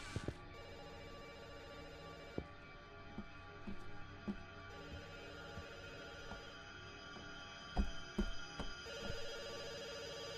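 A telephone rings in a horror video game. Faint repeated ring bursts rise and fall over a steady droning background score, scattered with soft clicks and knocks, and no one speaks.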